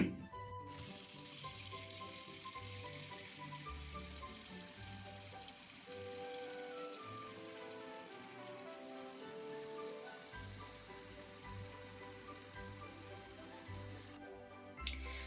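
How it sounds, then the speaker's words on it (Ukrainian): Clean water runs and splashes steadily into a bowl of meat, a continuous pouring patter with some soft clinks, fairly quiet and without talking. "тепер буду заливати чистою водою."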